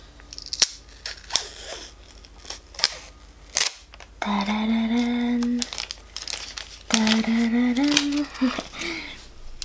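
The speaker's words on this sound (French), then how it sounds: "maintenant, on va déballer la télécommande." An Apple TV remote is unwrapped from its packaging, with close crinkling and tearing of wrap, sharp clicks and snips, while a voice talks over the middle and end.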